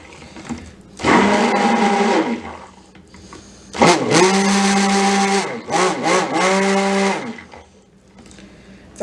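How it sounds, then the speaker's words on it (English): Worn stick blender whirring in bursts through cold process soap batter, a long run then several shorter pulses with pauses, close and loud, with no talking. "My stick blender has seen better days."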